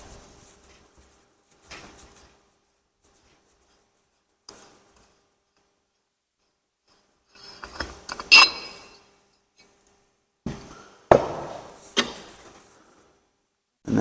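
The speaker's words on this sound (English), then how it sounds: "We can thread that off." Metal bearing flange on a Flux F580 pump assembly being threaded off, giving a few sparse clinks and scraping mechanical rattles in short bursts separated by quiet gaps, fairly close and moderately loud.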